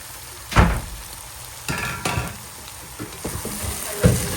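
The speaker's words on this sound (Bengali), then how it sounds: "এখন দিলাইমু আলু দিয়ে একটু লাড়াচাড়া কমু" Potatoes fry in a pan as a low, steady sizzle runs beneath several sharp scraping stirs of a spatula, each one close and distinct, with no one speaking.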